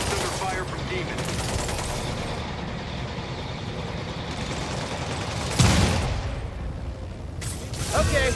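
Gunfire rattles at a rooftop outpost under attack by demons in Insomniac's Spider-Man game, dense bursts and mechanical clatter over a loud, continuous din, with a sharper blast near the middle and another toward the end.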